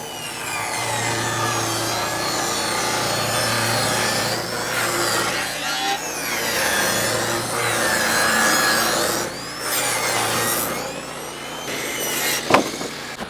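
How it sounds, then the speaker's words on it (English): A homestead sawmill rips down wide sawmilled lumber stock, a loud continuous grinding cut with a low engine hum beneath, the pitch wavering as the blade works through the wood and easing briefly between passes. "I'm gonna start ripping down the wider stock here"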